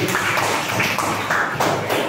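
Students in a classroom clapping hands together, a dense, continuous patter of many claps at moderate loudness filling the room.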